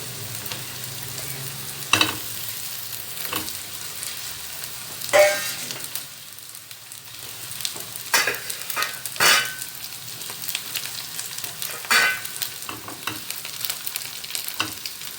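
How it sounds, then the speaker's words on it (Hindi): Fish sizzles steadily in a frying pan with onion and garlic for a chilli garlic masala, with a few sharper clinks of stirring breaking through the constant close crackle. "हमें मछली को फ्राई करना है प्याज और लहसुन के साथ में"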